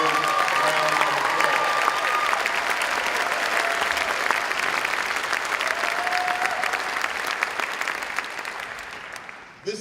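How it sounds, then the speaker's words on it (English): Sustained applause from a graduation audience at the Los Angeles County High School for the Arts class of 2016 ceremony, a dense, steady wash of many hands clapping that fades slightly near the end, with some whistles and cheers mixed in. "Let's give them another big round of applause."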